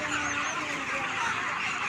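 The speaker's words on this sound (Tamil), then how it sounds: "கோழியோட சவுண்டு கேளுங்க, நல்லாயிருக்கும்." Chickens on a chicken farm make a dense, continuous chorus of overlapping clucks and calls, many birds at once filling the space without pause.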